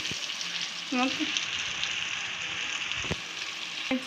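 Onions frying in oil for a sprouted gram tempering, an even close sizzle with a couple of sharp clinks of a utensil against the pan.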